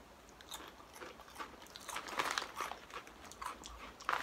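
Barbecue-flavoured snack chips crunched and chewed close to the mouth, a run of crisp bites and crackly munching that builds in the middle and stays fairly quiet, with no talking.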